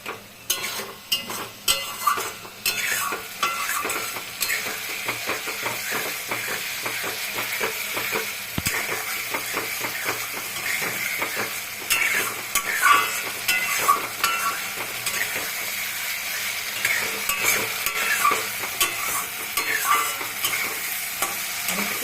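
Masala with Kashmiri red chili powder sizzles in oil for an egg curry while being stirred, with a steady close frying hiss broken by frequent spoon scrapes and clicks.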